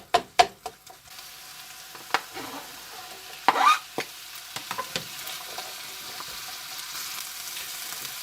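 Onions and pepper go into ground beef frying for chili, giving a soft sizzle with sharp clacks of a spoon on the pan and bursts of stirring, quiet between the knocks.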